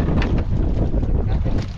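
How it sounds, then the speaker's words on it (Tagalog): Strong wind buffets the microphone at sea aboard a small fishing boat, a loud, constant roaring rush of gusts with no voices. "Masyadong naglakas ng hangin."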